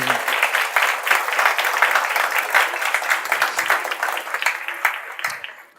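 A room full of people claps for the speaker Marcos Arruda after his talk on a life-centered economy, dense rhythmic applause that holds steady and then fades out.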